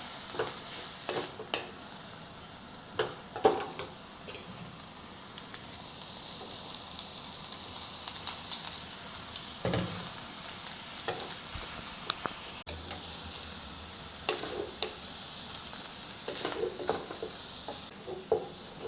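Minced pork and potatoes stir-fried in a pan, with a constant soft sizzle broken by repeated scraping and tossing sounds of a spatula, close by and with no one speaking.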